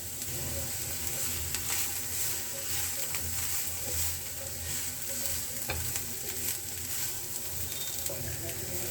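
Cabbage and sweet corn sauté over a low flame in a pan, a steady soft sizzle and frying hiss running throughout with occasional stirring scrapes, fairly quiet and without talk.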